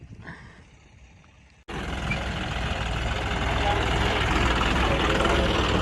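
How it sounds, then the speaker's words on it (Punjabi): A 4x4 tractor of about 90 horsepower runs with a loud, steady engine roar close by, starting abruptly after a quieter stretch with faint voices and holding continuous to the end, at a maize pickle harvest. "4x4 ਟਰੈਕਟਰ ਆ ਦੇਖੋ"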